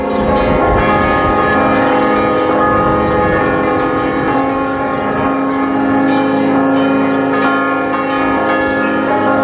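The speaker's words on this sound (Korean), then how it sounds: "메아리 치듯 섬 전체로 천천히 퍼져나가는 종소리는 아름다운 풍경과 더불어 한편의 시가 됩니다" Church bells ring across the island of Malta, loud and sustained, with overlapping tones humming and echoing together in a continuous, rich peal and no voices.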